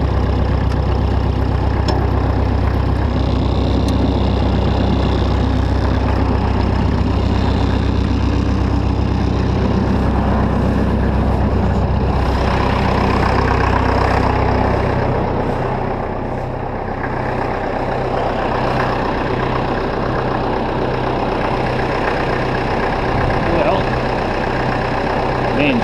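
A tractor engine idles with a steady, deep rumble throughout, close and loud, its tone shifting slightly partway through while someone talks over it.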